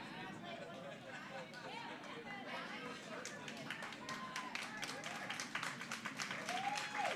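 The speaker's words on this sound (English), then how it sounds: "Round of applause in the warm room for the game on sheet D coming off the ice." Applause in a curling club warm room as a game on sheet D comes off the ice; scattered clapping builds toward the end under steady crowd chatter and a talking voice.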